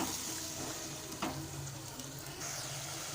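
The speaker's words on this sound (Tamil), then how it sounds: "தண்ணி நல்லா கொதிக்கட்டும்." A pan of water mixed with paneer and spices bubbles and sizzles on the stove, a steady close crackling simmer with a faint clink.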